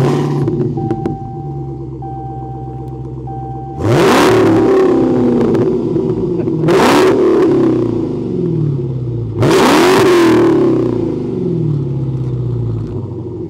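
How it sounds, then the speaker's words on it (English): A Dodge SRT Demon 170 muscle car engine, 1,025 horsepower, idles with a low rumble, then revs hard three times in loud, roaring bursts that drop back to idle between each. "you're going to hear an amazing exhaust note"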